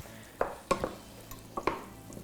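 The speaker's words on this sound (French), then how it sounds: "Puis je vais mélanger le tout." Stirring shakshuka with peppers and spices in a pan, heard as a few distinct spoon scrapes and knocks against the pan over a faint, steady sizzle, with no talking.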